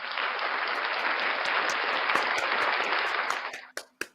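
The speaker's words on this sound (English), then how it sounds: "Round of applause for P. Barnes." Audience applause fills the room in a steady, even roar of many hands, then fades out, leaving a few isolated sharp claps at the end.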